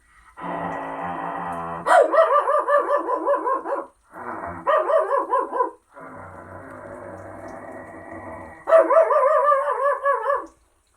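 A person imitates a dog barking, in bursts of rapid yapping barks separated by short pauses, loud and close.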